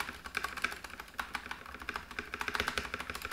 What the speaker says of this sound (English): consistency of the sound across the spacebar is pretty good